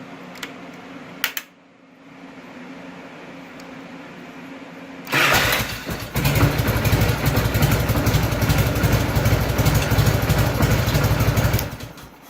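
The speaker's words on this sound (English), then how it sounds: "And now it cranks up just fine." A Harley motorcycle engine, newly repaired after a corroded start-switch screw, cranks and catches after a faint click and quiet hum, then settles into a loud, steady, throbbing idle that runs alone for several seconds before cutting off.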